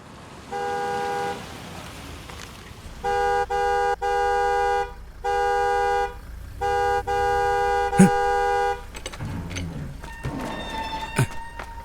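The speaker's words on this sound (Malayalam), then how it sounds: "എത്ര നേരമായി ഹോൺ അടിക്കാൻ തുടങ്ങിയിട്ട്?" A car horn honks repeatedly in a film scene, with a long blast followed by several separate sustained toots in an uneven rhythm, loud and close, then dying away into traffic noise.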